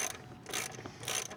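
Throttle body bolts on a Jeep JK being snugged thread tight with a ratchet, metal on plastic, giving a few quick close clicking ratchet bursts.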